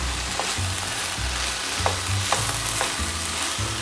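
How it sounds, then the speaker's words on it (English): Buffalo chicken pasta ingredients are stirred in a hot pan, a steady close sizzle with soft scraping strokes of the spoon recurring every half second or so, and no voices. "Now we're just going to stir this in,"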